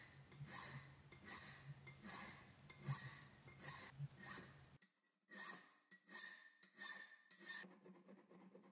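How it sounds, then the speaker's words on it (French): A hand file rasps against a knife handle, shaping its profile in a workshop: close, steady back-and-forth strokes in a regular rhythm, a brief pause midway, then more strokes, with no talk. "le travail de lime pour le profil est terminé"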